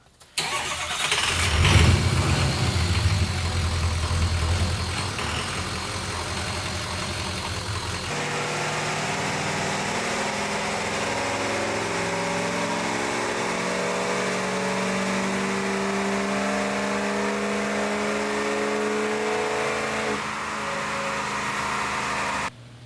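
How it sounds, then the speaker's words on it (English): A Ford 6.0 Power Stroke diesel truck cranks and starts on a dyno, then settles into a loud, steady idle that rumbles on and on, close and unbroken. "So I'm going to let him run the dyno."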